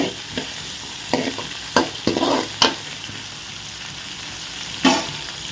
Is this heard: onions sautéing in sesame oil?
yes